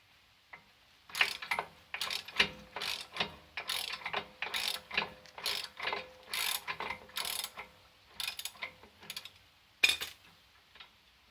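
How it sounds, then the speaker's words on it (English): Wrench loosening a nut on an Audi A4 strut during a coilover install, giving a close series of quick ratcheting clicks in short bursts with brief gaps. "So I'm gonna get a wrench on that. All right, I found a wrench, and she's coming off now."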